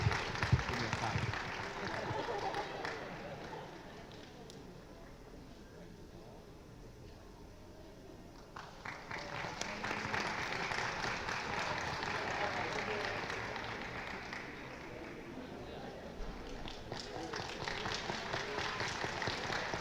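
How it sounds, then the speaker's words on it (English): A speech contest audience claps in scattered, moderate bursts that swell and ease over time, heard at a distance beneath a host's ongoing talk. "let's give them a big applause."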